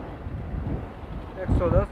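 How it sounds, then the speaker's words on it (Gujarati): Wind buffets the microphone in low rumbling gusts, with faint voices underneath and a brief louder burst near the end. "હવા બહુ તેજ ચાલી રહી છે."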